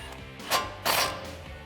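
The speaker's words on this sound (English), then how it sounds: "Grab your 10mm socket and tighten it down." A ratchet with a 10mm socket tightens brake caliper bolts on a Ford F150, giving a couple of short mechanical clicking bursts, close and fairly quiet.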